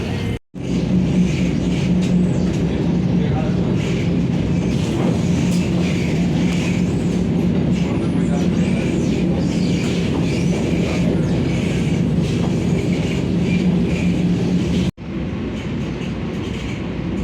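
A Vande Bharat train running from Secunderabad toward Tirupati gives a loud, unbroken rumble with faint rhythmic clatter from the tracks, cut briefly twice.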